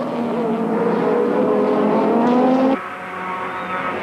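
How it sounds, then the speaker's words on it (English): A Sassel Mazda modified race car on its final lap into a curve at Killarney in a 1993 Wesbank Modifieds round, its engine buzzing loud and close, then dropping in pitch and volume as it lifts. "Final lap with Ben Morgenrud bringing the Sassel Mazda into Stanek curve for the last time."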